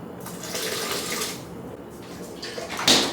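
Water, about 360 grams, runs in a steady continuous stream into a bowl in a home kitchen, close and fairly loud, with a brief clatter near the end and no talking.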